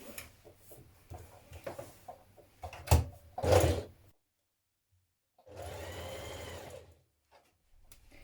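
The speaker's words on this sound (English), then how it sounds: "We're going to stitch it with a 1 centimetre seam down this angular part just here" Sewing machine stitching a 1 cm seam along the angled edge of a pocket facing: short bursts of stitching and handling noise, two sharp louder thumps, a silent pause, then a steady run of machine stitching lasting about a second and a half.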